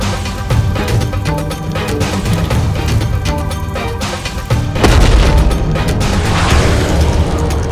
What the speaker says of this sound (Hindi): ये कैसा विस्फोट हुआ वहां पर?